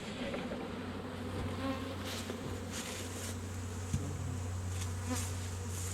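Honeybees buzz steadily around an open hive with loose, sticky comb built on top, a dense close drone holding throughout with brief louder swells and a single knock near the end.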